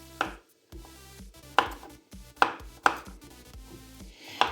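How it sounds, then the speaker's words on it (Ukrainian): Peeled, seeded zucchini chopped into small pieces on a cutting board, six sharp knife strikes at an uneven pace, close and crisp, with quiet pauses between. "Далі я просто взяла і Порізала ось на такі невеличкі шматочки."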